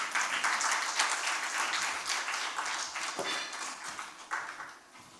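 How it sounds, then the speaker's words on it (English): Audience at a corporate communications awards ceremony applauds, a full, steady wash of clapping that slowly tapers off toward the end. "Please give Shobha a big round of applause."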